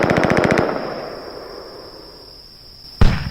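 An M3 Moz weapon fired on a grassy test range in a video game, a quick rapid-fire burst that tails off into a fading ring, then one sudden loud blast near the end.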